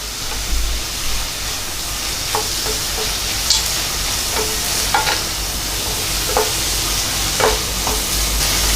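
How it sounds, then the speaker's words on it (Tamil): Mutton varuval sautéing in a pan, a steady broad sizzle with occasional stirring scrapes and clicks spread through, continuous and fairly loud, with no talking. "இது நல்லா வதங்கட்டும்."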